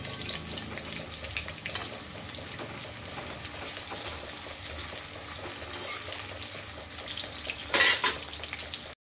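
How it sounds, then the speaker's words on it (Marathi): Chopped onion sautés in hot oil in a home kitchen, a steady crackling sizzle with occasional stirring scrapes and a brief burst of running water near the end. "असा कांदा छान परतून घ्यायचा"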